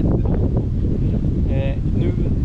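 Strong wind buffets the microphone on an open golf course, a constant loud low roar that covers everything, with a voice speaking faintly underneath.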